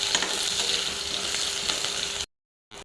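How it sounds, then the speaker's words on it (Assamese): Onions fry in hot oil in a wok, giving a steady bright sizzle with light stirring scrapes, then cutting to silence before a short burst of sizzling returns. "পিঁয়াজখিনি অকণমান ভাজি লওঁ।"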